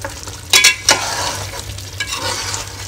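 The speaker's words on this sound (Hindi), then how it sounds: "अब इसको भी हम 2 से 3 मिनट के लिए फास्ट गैस पर ही भूनेंगे।" Masala for chicken biryani, made with ground spice powders and garam masala, is stir-fried on high flame. A loud, close sizzle is broken by a few sharp scraping strokes of the spatula.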